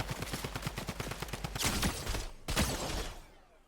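A drum gun in the video game Fortnite fires a long rapid burst of evenly spaced shots, then a few louder heavy blasts follow before the shooting trails off into ambient game sound.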